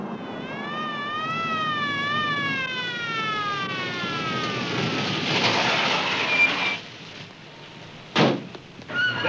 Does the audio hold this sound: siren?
yes